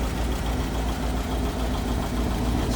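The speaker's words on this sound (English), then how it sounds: "give it a little more spinning power to that engine, and there it is" A 1953 Packard Caribbean convertible's eight-cylinder engine idles close by in a steady, even low rumble with a faint ticking texture, running alone without voices.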